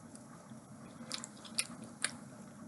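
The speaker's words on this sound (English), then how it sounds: "Always want a little something to snack on. These are the Chick-fil-A waffle fries." Someone bites and chews Chick-fil-A waffle fries close to the mic, with a few soft crunchy bites standing out over faint background noise, no talking.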